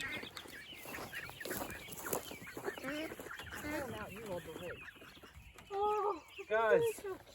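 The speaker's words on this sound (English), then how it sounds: "So we got what looks like one Isa Brown outside of the coop and a Buff Orpington outside the coop." An Isa Brown hen and a Buff Orpington hen cluck near a coop at dusk, the calls rising into louder bursts toward the end, with a person talking over much of it.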